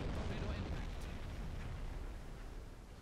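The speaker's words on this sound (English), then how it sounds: "Out of the blue, kablam. No idea what hit her." Torpedo striking a ship in the Silent Hunter 5 submarine game, a deep rumbling explosion that roars loudly at once and slowly fades over a few seconds.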